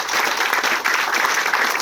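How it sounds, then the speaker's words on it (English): Audience clapping steadily at a veterans' remembrance ceremony for a fallen Marine gunnery sergeant, a dense and fairly loud round of applause that holds evenly for its whole length. "Let's give them a big round of applause."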